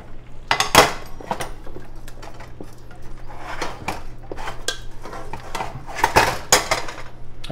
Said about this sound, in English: They go right over here into the pan. Sauce goes in there with them.